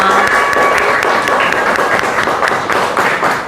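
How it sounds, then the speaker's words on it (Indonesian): Dense applause from a group of children in a classroom fills the whole stretch, steady and fairly loud, with a hint of voices underneath. "tepuk tangan untuk kita semua"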